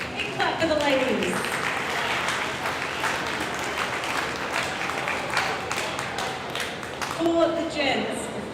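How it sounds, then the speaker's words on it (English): An audience at a barbell competition, a state titles event, applauds steadily for several seconds, a broad wash of clapping and crowd noise with a voice talking over it at the start and the end. "Big clap for the ladies."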